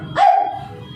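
A single short bark made by a human voice imitating a dog, loud and close, one sharp yelp that fades quickly.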